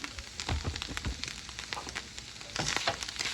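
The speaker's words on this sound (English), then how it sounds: "So we're just going to keep stirring this." Food fries in a pan under close, continuous stirring, with a dense crackling sizzle and repeated scraping knocks of a utensil that grow louder near the end; no speech.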